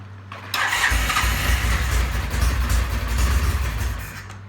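A vintage British motorcycle engine starting from cold after sitting unused: a loud catch and fire-up, then a steady, rough low idle running close by for several seconds, heard alone.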